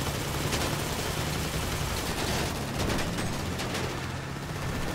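Heavy, chaotic gunfire in GTA Online, a dense wall of overlapping shots and rumbling blasts filling the whole stretch at constant loudness with no clear gaps.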